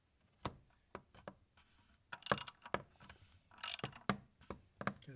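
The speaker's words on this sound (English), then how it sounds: "And use the wrench to tighten it." A wrench tightens the oil drain plug on a 2020 Jeep Wrangler, giving a series of crisp ratcheting clicks in short irregular bursts, close and fairly quiet, with no talk.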